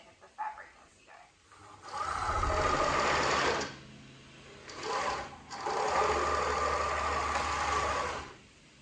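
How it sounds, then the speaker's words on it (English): An overlocker sewing machine trims the frayed edge of fabric alongside elastic in two loud, sustained whirring runs separated by a short pause, close to the microphone. "Try not to cut any of the elastic with your overlocker, just trimming off a little bit of the frayed edge of the fabric as you go."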